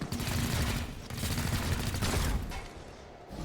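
Pistol fire in the turn-based tactics game XCOM Chimera Squad, dense overlapping shots and crackling impacts forming a loud, sustained burst of gunfire with no speech over it.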